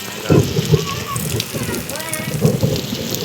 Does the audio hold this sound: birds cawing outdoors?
no